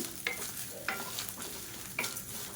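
Chana dal roasting in a pan, stirred with three distinct scraping strokes of a spatula over a quiet, continuous dry sizzle, close and fairly soft.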